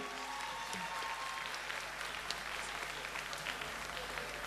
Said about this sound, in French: Est-ce qu'on peut applaudir pour Peter et Dorsel?